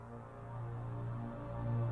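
A royalty-free screensaver music track plays softly as a low, smooth, sustained ambient drone with gently shifting tones and no clear beats.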